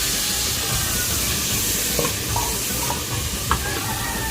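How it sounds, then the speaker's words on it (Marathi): Onion, tomato and ginger-garlic paste stirred and frying as a tempering for sambar, a steady close sizzle with a few scraping spoon knocks against the pan. "जसं आपण तडका देतो त्याचप्रमाणे हे सर्व इथे एकजीव करणार आहे"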